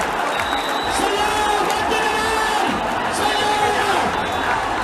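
Devotees crowding around the andas at the gate of Quiapo Church clap and shout in a loud, continuous roar with scattered whoops and cries. Voices carry through the din the whole time.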